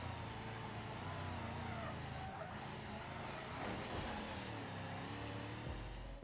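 Steady engine drone of a car accelerating in the BeamNG Drive driving game, continuous and moderately loud, with a slight swell in pitch midway and no talk over it.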